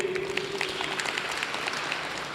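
Audience applause at a Catholic church self-help group annual general meeting, welcoming the zonal chairman: steady, dense clapping from a crowd that continues evenly throughout.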